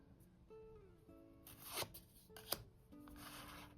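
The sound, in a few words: tarot cards being shuffled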